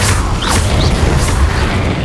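Incendio fire spell cast in Hogwarts Legacy, a loud, short burst of whooshing flame and crackling impact lasting about two seconds, close and alone.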